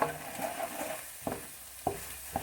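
Egg drop soup being stirred in a pot: a spoon scrapes the pot in a few distinct strokes, spaced about half a second apart, over a soft bubbling background, close and fairly quiet, with no talking.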